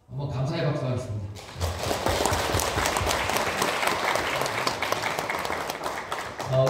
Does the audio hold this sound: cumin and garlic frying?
no